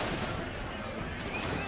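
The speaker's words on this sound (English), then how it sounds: "I used my swivel gun on those assholes over there" A ship's swivel gun fires in the pirate video game Assassin's Creed Black Flag, a dense, loud burst of blasts filling a short stretch amid battle noise.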